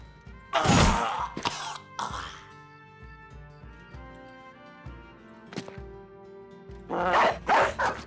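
A dog barks in a video game set among southern mercenaries fighting a raider: a few loud, close barks with gaps between, over a quieter ambient game background.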